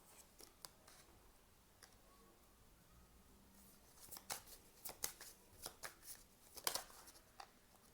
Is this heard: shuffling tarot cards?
yes